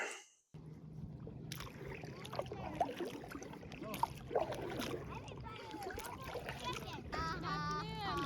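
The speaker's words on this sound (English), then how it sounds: "This is my first time kayaking" Water sloshes and splashes steadily as a paddle dips, with a person talking over it and a low engine-like drone underneath.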